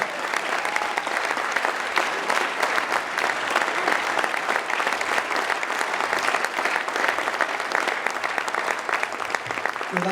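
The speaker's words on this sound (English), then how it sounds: "how about a big round of applause for Mark Sentoshi Russo?" Audience applause at a black belt celebration: steady, dense clapping from a large crowd that holds at a full, even level for the whole stretch without letting up.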